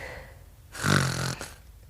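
A person snores once, a single loud rasping inhale in the middle of otherwise quiet surroundings, standing alone without talk.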